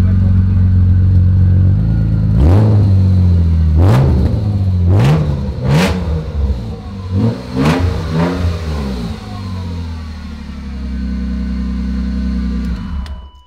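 A BMW M3 engine idles loudly up close, then revs sharply several times in quick bursts, the exhaust roaring and dropping back before settling into a steady drone.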